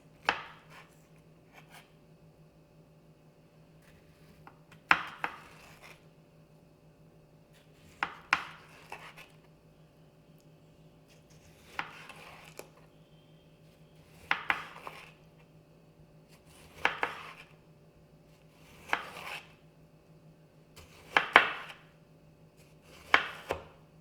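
A knife cuts a tomato into long thin slices on a board, producing a series of crisp, evenly spaced chopping taps roughly every one to two seconds, close and clean against quiet background hum.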